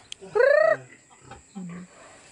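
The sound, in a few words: chickens clucking near a piggery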